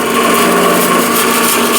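A woodturning tool peels side grain into shavings on a lathe, giving a steady, loud, continuous scraping hiss with a faint tonal hum beneath it that runs unbroken throughout.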